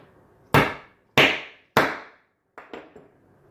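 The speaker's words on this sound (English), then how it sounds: "we're going to take our priming rod, put it inside, and then we're just going to give that a couple whacks until the primer is seated" A priming rod is struck to seat a primer into a cartridge case: three sharp, loud metallic whacks evenly spaced, followed by two softer, quicker taps, close by with no talking.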